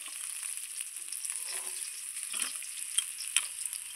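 Hilsa fish heads fry in hot oil, giving a steady, bright sizzle with crackling pops throughout, close and fairly loud, with occasional sharper spits and the scrape of stirring.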